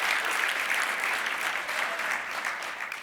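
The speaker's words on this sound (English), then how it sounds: "give these folks a round of applause" An audience at a SXSW 2022 conference session claps in steady, dense applause throughout, sustained and fairly loud with no break.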